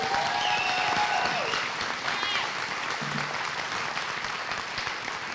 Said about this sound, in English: Give yourselves a round of applause for what you do.